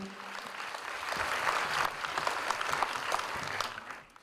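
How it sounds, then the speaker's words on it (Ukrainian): An audience applauds at the opening ceremony of the MykolaichukOPEN film festival, a dense, steady wash of many hands clapping that swells slightly, holds for several seconds, then fades out at the end, heard from some distance. "Пасибі, оплески Євгенію."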